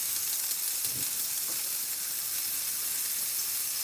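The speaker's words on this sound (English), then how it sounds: "So I can toast these buns up." Burger buns toasting in a hot skillet give off a steady, close sizzle, a continuous even hiss of frying with no pauses or voices.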